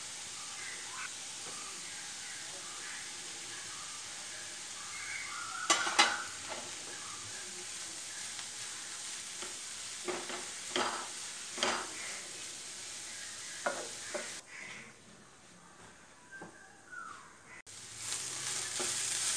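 Beans thoran with grated coconut is stirred in a pan. A spoon scrapes and clinks in scattered strokes over a soft, steady sizzle, close by, with a brief quieter gap near the end.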